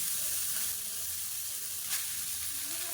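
Cooked rice gets stirred into hot ghee with roasted cashews in a pan, a soft continuous sizzle and faint scraping running throughout with one brief sharper scrape near the end, no voices.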